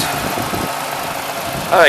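A 1993 Ford Ranger XLT Supercab 2wd with the Vulcan V6 idles close by in a steady, even rumble, and a voice briefly begins talking at the very end.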